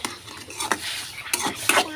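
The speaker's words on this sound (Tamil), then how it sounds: "ஒரு 5 நிமிஷம் நல்லா வதக்கணும்." Sautéing in a cooking pan, a spoon scraping and knocking against the pan in quick irregular strokes, with a soft sizzle underneath, close and clear.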